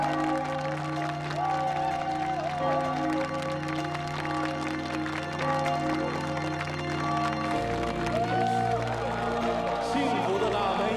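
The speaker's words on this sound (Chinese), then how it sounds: "雷鸣般的掌声、刺耳的尖叫" Wedding guests standing to applaud and cheer two couples, a continuous dense clapping with whoops under loud music and a host's voice, steady for the whole stretch.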